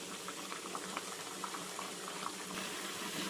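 Radish sambar simmers in a pot, a soft steady bubbling and popping close by, with no voices.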